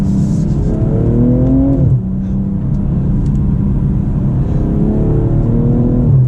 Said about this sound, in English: We're manual mode, so give me the downshift, there we go.